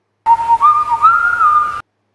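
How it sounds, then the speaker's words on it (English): A person whistles a short, cheerful little tune, a clear melodic line rising and wavering for about a second and a half, close and fairly loud with no talking. "BJ whistled a little tune."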